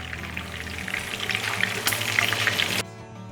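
Soya chunks and green chillies shallow-fry in oil with a close, busy sizzle and crackle that runs steadily, then cuts off abruptly, leaving only a faint hum.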